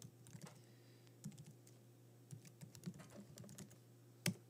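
Someone types an email address on a computer keyboard: quiet, irregular clicks in small bursts, ending with one sharper keystroke.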